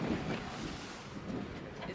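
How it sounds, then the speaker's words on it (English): Strong wind buffeting a microphone outdoors at a drive-thru COVID-19 test site, a constant low roaring rush with gusty swells and no clear speech. "It's extremely windy out here."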